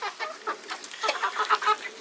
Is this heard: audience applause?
no